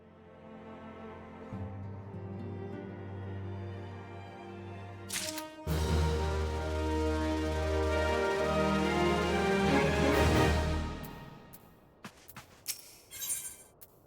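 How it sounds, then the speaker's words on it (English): Dungeon ambience from an Imperial stronghold, Castrum Sentry, in the Final Fantasy XIV video game. Low sustained drones swell into a dense, brooding wash of tones, then fade into sparse scattered sounds, all fairly quiet. "That's the sound of a dungeon if I've ever heard one."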